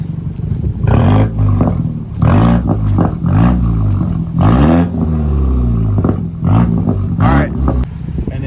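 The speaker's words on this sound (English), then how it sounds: "we're gonna do some revs." A car engine with a Magnaflow exhaust revs up several times in short bursts, each rising pitch then falling back, loud and close.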